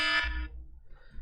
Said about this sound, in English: have my alarm go off right in the middle of a recording